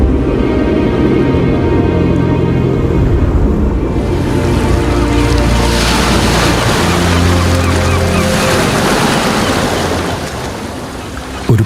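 Sea waves rolling as a radio drama sound effect, a continuous loud wash of surf with a low rumble under a steady drone of background music throughout.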